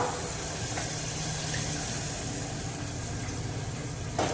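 Water pours steadily into a cooking pot for a vegetable dish, a continuous, fairly loud gushing splash that runs without a break for about four seconds.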